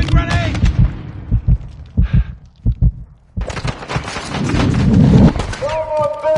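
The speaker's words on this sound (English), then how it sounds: "Throwing grenade!" A grenade explodes in Call of Duty Modern Warfare II, a deep, rolling blast swelling late after a run of thumping shots and shouted callouts, loud and close.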